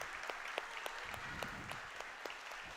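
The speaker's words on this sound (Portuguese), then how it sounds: "Vamos aplaudir ao Senhor, igreja." A church congregation applauds during a Pentecost service, a steady wash of clapping with a few sharper claps standing out, moderately distant and fairly quiet throughout.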